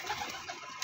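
Brief, soft cooing of teddy pigeons against a steady hiss of background noise.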